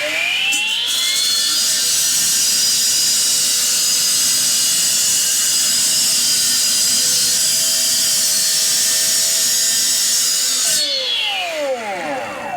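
A power saw grinds steadily through a concrete curb channel during a crushed drain pipe repair. It is a loud, close, continuous high whine lasting about eleven seconds, then winds down as the blade spins to a stop.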